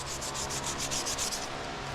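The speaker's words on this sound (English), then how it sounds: "and sand it" Rapid rhythmic rasping strokes of sandpaper rubbing back and forth along the grain of a wooden pen by hand, about a dozen quick passes, close and steady, then easing off.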